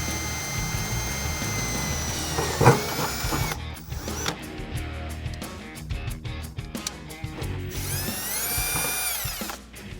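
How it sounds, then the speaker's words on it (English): Self-tapping screws are driven into an aluminum inner fender liner on a Jeep Wrangler JK with a power driver, giving short whirring, clattering bursts up close, some rising in pitch as the screws seat, with no talking. "So now we can tighten down our self-tapping screws."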